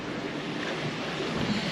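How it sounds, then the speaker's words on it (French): South-east wind at sea aboard a racing sailboat in an offshore round-the-world race, a steady, dense rush of wind noise and water hiss with no pauses. "Là, j'ai du vent de sud-est."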